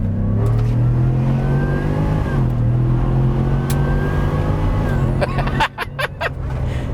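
A Roush Ford F-150 pickup pulls hard in second gear, its engine roaring loud and close with a steadily climbing pitch, ending in sharp mechanical bangs and crackles.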